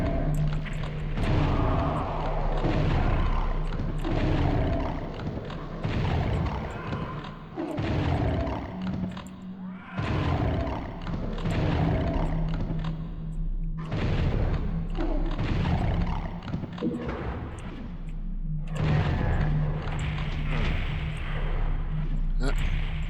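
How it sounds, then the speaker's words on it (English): Missile blasts and heavy weapon fire in PSX Doom II give deep booming thuds and roaring rumbles, repeated through a steady game soundtrack and loud throughout, with a person talking over them. "One of the missiles hit."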